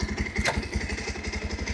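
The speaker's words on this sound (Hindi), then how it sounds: "आपको बाइक को स्टार्ट करके मैं दिखा देता हूँ, सो आप देख लो।" Bajaj Pulsar 150 BS6 motorcycle with 40,000 km on it idling steadily after being started, a close, loud engine putter with a fast regular pulse and light mechanical clatter, no talking over it.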